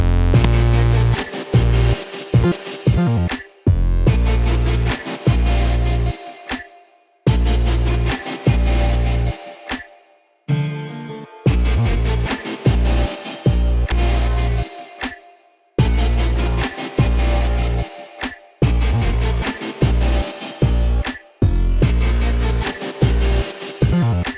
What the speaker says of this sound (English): get some saw waves and put a ton of distortion on it